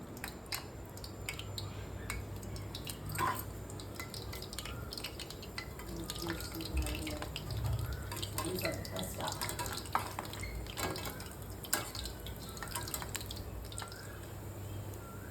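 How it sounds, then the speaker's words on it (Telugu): Gulab jamun balls frying in hot oil give a soft, steady bubbling sizzle with faint drips and light stirring, low and continuous throughout. "ఇలా చూడండి, ఆయిల్ హీట్ అయిన తర్వాత"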